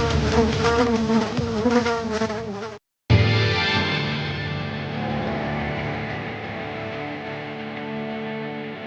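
A dense swarm of locusts drones steadily, loud and close throughout, like a thick mass of buzzing wings, cut by a brief moment of silence before the buzzing resumes.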